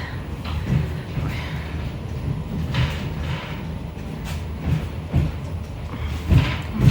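Moving passenger train carriage on a December trip to Vinnytsia, with a steady low rumble of wheels on the rails, a few louder clacks and jolts, and no talking.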